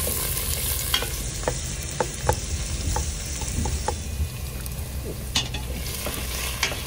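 Onions sizzle and crackle in oil in a hot frying pan while a utensil scrapes and taps as it stirs, close and fairly loud.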